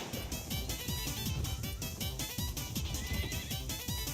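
A horse whinnies and neighs repeatedly over a busy, loud mix of rhythmic thumps and other sounds, with no clear talk.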